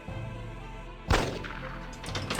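A single sharp gunshot bursts out in the video game Unearthed: Trail of Ibn Battuta, loud and close against a low humming game background, then fades into a brief ringing tail.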